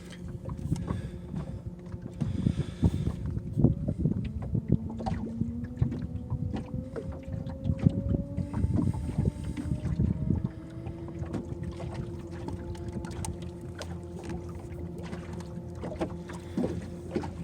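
Caroute W400 electric outboard motor running on a late-1980s Glastron CVX16 boat, a low steady hum with a slowly rising whine as it speeds up, under wind and water noise, no talk.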